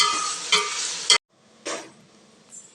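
Vegetables frying in a pan, several bursts of loud broadband sizzle with a brief stirring scrape, then a sudden drop to near silence and a softer, shorter sizzle near the end.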